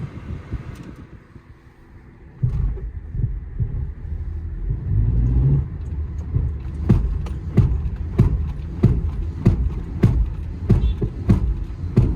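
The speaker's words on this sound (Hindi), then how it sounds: "जिस टाइम गाड़ी ना झटके लेता है गटक गटक का भेड़ी आवाज़ आती है" A 2010 Honda City judders and grinds as the clutch is released. A low rumble from the engine swells into a series of rhythmic, throbbing thumps that are close and fairly loud, and the thumps repeat roughly every half second.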